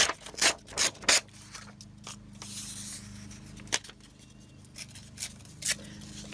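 A spare book page is torn by hand along its edge, with a few sharp, close ripping bursts early on, then quieter scattered rustles and tears of paper.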